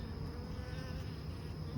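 Honey bees hum steadily inside an opened beehive during an inspection of soybean-area hives, a dense continuous buzz close by and even in level, with no talking.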